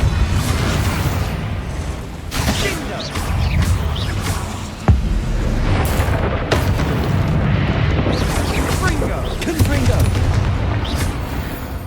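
Confringo fire spells exploding during Hogwarts Legacy combat, a dense run of loud booming blasts and crackling bursts, with a sharp crack near the middle and a voice casting spells over the din.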